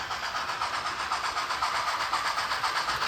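A Mogul steam locomotive pulling a Pacific Fruit Express train of refrigerator cars, its steady rhythmic chugging and hiss rolling along at a moderate distance with a faint regular beat, no talking.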